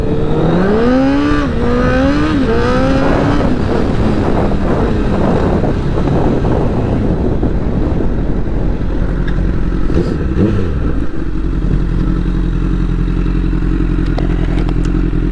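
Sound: motorcycle engine while riding

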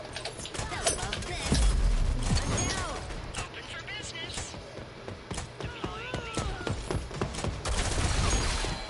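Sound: gunfire in an Xbox video game

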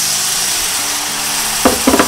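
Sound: eggplant stir-frying on high heat with sauce

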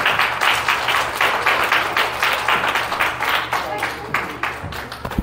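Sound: congregation hand clapping in praise

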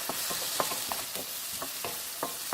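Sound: stir-frying yam over medium heat

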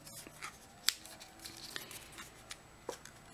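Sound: bone folder pressing down scored paper

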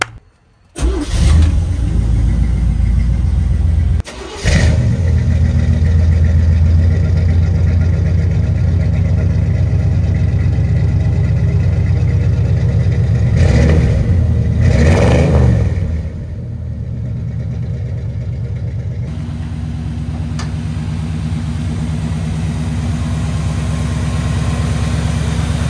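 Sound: 1972 GMC K20 4x4 truck engine starting and revving

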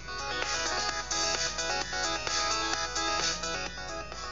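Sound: custom iPhone ringtone created in GarageBand, preview playing

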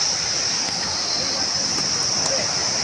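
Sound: mountain stream flowing on a trail

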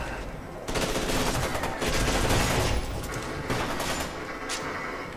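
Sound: gunfire shooting at player in video game Fear 2

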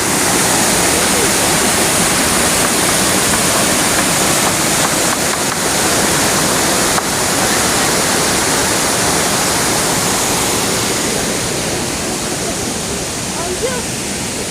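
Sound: Oylat waterfall rushing

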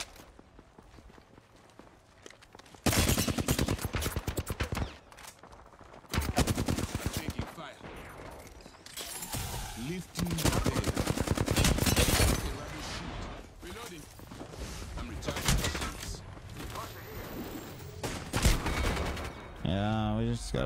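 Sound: gunfire in video game Apex Legends

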